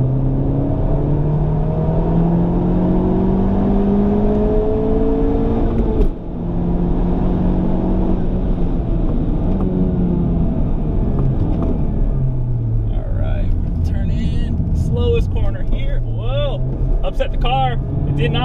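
A Honda Civic Type R engine drones and rises in pitch during driving, with steady revving and shifts in load heard under continuous talk from inside the cabin.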